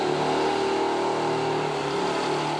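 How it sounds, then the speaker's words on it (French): A scooter engine riding through the streets of Marseille on a morning commute, a steady loud droning hum held throughout without pause, close up and alone. "Comme chaque matin, il se rend au bureau à scooter."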